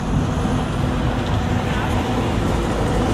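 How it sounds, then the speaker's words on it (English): Street traffic makes a constant, loud roadway roar with heavy vehicles rumbling past, a dense wash of engine noise close by under the talk. "Cause man, the traffic gets bad."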